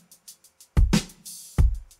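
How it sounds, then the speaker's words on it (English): Isolated drums play alone: light, even hi-hat ticks over a few deep kick thumps and a sharp snare crack, with a sustained cymbal wash between hits. "so the drums sound like this in isolation"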